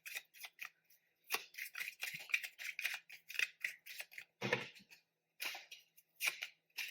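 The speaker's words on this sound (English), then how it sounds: "A whole bunch of cards just fell" Tarot cards spilling out of a deck, giving a run of quiet papery flicks and slaps in irregular bursts over several seconds, with one fuller thump near the end, close and soft.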